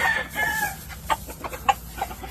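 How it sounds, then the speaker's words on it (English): Albany gamefowl chickens cluck in short, sharp bursts near the microphone, with a drawn-out rooster crow rising at the start, loud and without talk. "Have these the best Albany chickens in the world."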